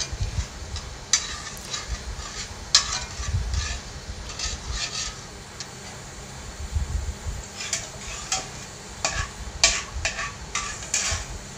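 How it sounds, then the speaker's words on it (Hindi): Cumin seeds sizzling in hot oil for shahi paneer, a low steady crackle under repeated sharp spoon scrapes and clinks against the pan throughout. "ऑयल मैंने गरम करने के लिए रख दिया था और अब मैंने इसमें जीरा को ऐड कर दिया है"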